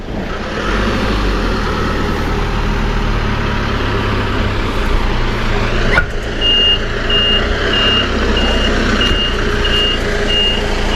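A truck reverses into a parking spot, its reversing alarm beeping in a steady, evenly spaced rhythm over a loud, continuous engine rumble.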